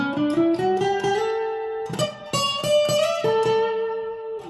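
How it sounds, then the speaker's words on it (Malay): A Natasha Asteroid smart guitar plays its bend effect, with short electric guitar phrases whose notes bend upward, carrying a slight chorus shimmer, loud and clear, with no voices. "Bend ni bunyi dia ada chorus sikit."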